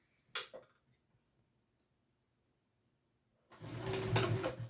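A sewing machine top-stitches a pack around its card slots after a brief clack and a long near-silent pause, then runs in a steady, fairly loud burst at the end.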